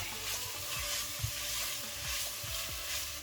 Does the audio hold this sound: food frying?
yes